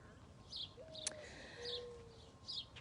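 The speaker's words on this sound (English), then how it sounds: "You can hear the birds chirping." Small birds chirp in short, faint bursts beside a lake with a rain garden, several calls spaced through a quiet outdoor setting with soft background hiss.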